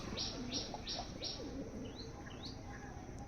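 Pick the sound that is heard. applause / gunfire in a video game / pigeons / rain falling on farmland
pigeons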